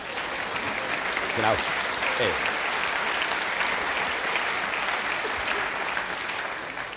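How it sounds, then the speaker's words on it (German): A comedy show audience applauds loudly and continuously for several seconds, a dense wash of clapping that tapers slightly at the end, with a brief spoken word over it. "Genau so haben sie geklatscht"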